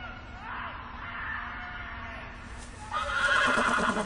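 Horse neighing and whinnying in a Game of Thrones game scene, a loud shrill whinny rising near the end over background ambience and music.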